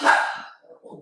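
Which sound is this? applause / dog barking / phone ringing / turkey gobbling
dog barking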